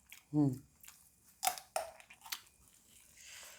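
Chewing on spicy Korean instant noodles with sausage, served with fresh vegetables and boiled egg: close, wet mouth sounds and a few sharp crunchy bites, with a brief voiced sound near the start.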